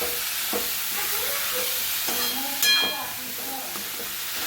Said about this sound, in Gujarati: થોડી ભાજી નાખી અને મિક્સ કરતા જઈશું.